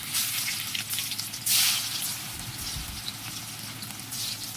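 Chicken pieces fry in hot oil for a corn chicken curry, a continuous bubbling sizzle with occasional louder spattering bursts, close and steady throughout.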